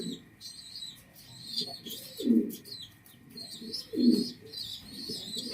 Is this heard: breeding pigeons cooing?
yes